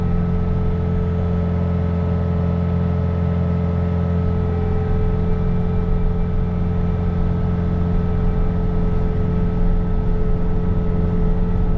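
A Bobcat T66 running with a snow blower attachment, a loud, steady engine drone with a constant mechanical hum, close by and with no talk.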